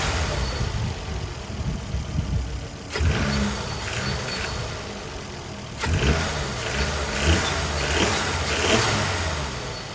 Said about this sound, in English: and then we'll give it some revs.